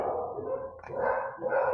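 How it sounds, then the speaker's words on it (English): Pet dogs bark and howl indoors, a moderately loud run of overlapping yips and drawn-out howling barks lasting under two seconds with no one talking. "You hear my naughty dogs barking."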